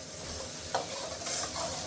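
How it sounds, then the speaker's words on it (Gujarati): Spice masala roasting on a gas stove while being stirred, a soft, steady sizzle broken by a few spoon scrapes against the pan, near and fairly quiet with no voices. "હવે જો આપણો મસાલો કેટલો મસ્ત હેકાતો જાય છે."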